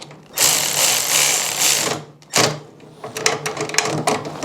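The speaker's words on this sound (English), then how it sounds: "Now, of course, I'm using the electric ratchet" An electric ratchet works a bolt on an Ariens snow blower, whirring loudly in two bursts, a long run then a short pause, followed by a choppier, stuttering stretch of tool noise.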